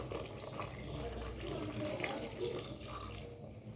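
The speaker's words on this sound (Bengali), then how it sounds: "এরপর আমি জল দিয়ে দেব।" Water runs into a simmering curry in a steady, faint splashing stream that lasts several seconds without a break.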